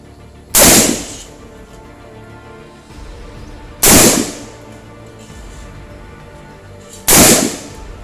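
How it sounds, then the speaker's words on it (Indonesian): Three loud single gunshots from a real M4 carbine rifle, each a sharp blast with a short decaying tail, spaced about three seconds apart over quiet background. "Gue di awal tuh nggak expect bahwa suara ledakan pelurunya itu segede gitu."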